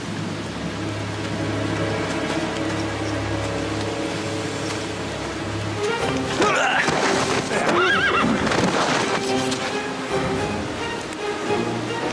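A horse neighs loudly in a historical Russian setting, its whinny breaking out in bursts over the second half, with hooves shifting and faint background noise in between.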